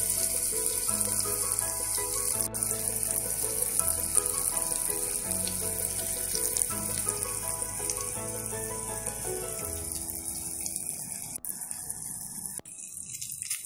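Brinjal slices fry in oil with a continuous soft hiss and sputter that holds steady the whole time, under a sustained tonal background.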